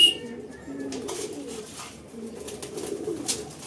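Racing pigeons coo softly in a loft, low repeated throaty calls running throughout, with faint background activity and no clear talk.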